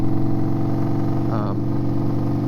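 Indian Scout Bobber motorcycle engine running at a steady, low-rev hum, loud and continuous throughout, with a rider's voice talking over it.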